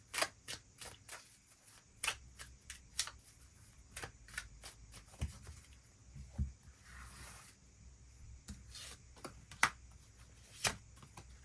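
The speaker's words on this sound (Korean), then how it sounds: "그 부분 추가 카드 뽑아보도록 하겠습니다." Tarot cards drawn and shuffled by hand during a reading, a run of crisp, close, separate card snaps and slides spaced irregularly across the stretch, quiet and without talk.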